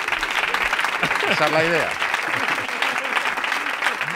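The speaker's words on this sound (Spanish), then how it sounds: "Favor, un aplauso." Studio audience applause from a Spanish comedy show's live audience, a broad steady clapping wash throughout, with a voice speaking briefly over it near the middle.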